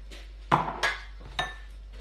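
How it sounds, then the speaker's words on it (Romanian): Whisk stirring a wholemeal flour mixture in a bowl, a few close metallic clinks and scrapes against the bowl. "acum o să amestecăm totul cu un tel"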